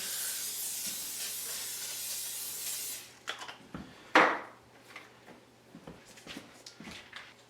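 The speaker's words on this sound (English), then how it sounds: "First thing I'm doing is spray my crock pot so it's easier to clean." A steady aerosol hiss of cooking spray into a slow cooker lasts about three seconds, followed by soft clunks and handling noises close by.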